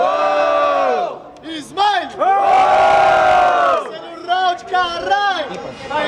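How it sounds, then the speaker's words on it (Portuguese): A crowd at a rap battle semifinal erupts in loud, sustained shouting and cheering, with bursts of whooping that swell, dip briefly and surge again. "Vamos fazer votação, família, vamos fazer votação. Barulho pras rimas do Leozinho"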